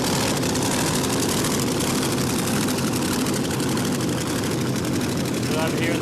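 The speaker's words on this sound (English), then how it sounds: "So supercharged Hemi takes on supercharged Big Block." Supercharged Hemi and supercharged Big Block drag cars idle at a drag racing event, a loud, dense, steady engine rumble filling the scene, with a voice talking over it.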